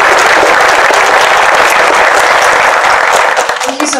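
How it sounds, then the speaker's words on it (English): Conference audience applauding at an opening ceremony, a dense, steady wash of clapping that stays loud throughout and thins out in the final half second. "So give Allison a round of applause."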